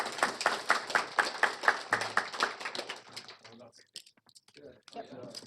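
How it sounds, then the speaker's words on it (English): Applause for Crew Award winners at a county Board of Commissioners meeting, a burst of close clapping from a small group that thins out after a few seconds into scattered claps and murmured talk. "Please give them another round of applause."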